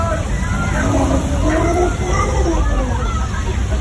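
Thousands of gallons of recycled water dumped from tanks at the top of a hill rush and slosh downward in a loud, continuous wash, with a crowd's voices babbling underneath.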